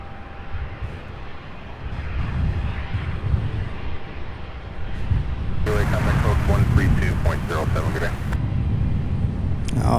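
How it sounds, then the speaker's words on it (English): A Southwest airliner taxiing close by at Louisville's SDF airport, a steady broad engine roar that builds louder toward the end, with a brief harsher burst midway and faint voice chatter underneath. "Oh, check this out, up close taxi by Southwest."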